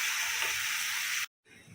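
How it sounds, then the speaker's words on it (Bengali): Spice masala for chana masala is stirred and sautéed in a hot pan over raised heat. A loud, steady sizzling hiss holds for over a second, then cuts out briefly before a quieter sizzle resumes. No one talks. "এখন আমি কষিয়ে নেব"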